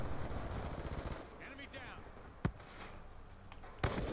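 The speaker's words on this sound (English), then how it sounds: "Friendly death machine spinning up" Death Machine minigun from Black Ops 2 firing a fast rattling burst for about a second, followed by quieter game noise and two sharp isolated bangs; a voice talks over it.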